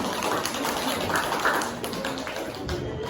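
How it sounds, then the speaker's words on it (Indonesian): A classroom of students claps for a classmate, with a scattered, uneven patter of hands that stays moderate in loudness, while voices talk underneath. "Tepuk tangan untuk Jihan."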